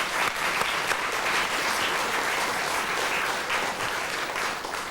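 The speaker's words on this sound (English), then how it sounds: "could we have a round of applause for both teams?" A studio audience at a BBC TV literary quiz applauds both competing teams, sustained, even clapping from many hands that holds steady throughout with no voices over it.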